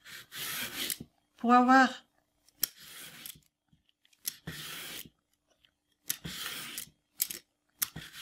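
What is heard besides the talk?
knife cutting large carrots into long julienne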